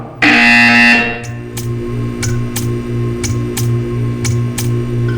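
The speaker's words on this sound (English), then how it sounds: "You will hear a buzzer. When you hear the buzzer, stare at the art." A loud electronic buzzer blares for about a second in Portal 2, then a steady hum continues with repeated short ticking clicks at an even pace.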